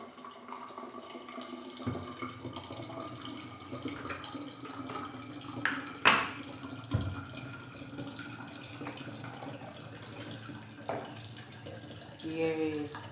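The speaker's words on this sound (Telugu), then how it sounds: "ఈలోపు వాటర్ బాటిల్స్ పట్టుకుంటానండి ఖాళీ అయింది" Water running from a tap into water bottles in a home kitchen, a quiet steady trickle and splash with a few clinks and knocks, fairly close and faint.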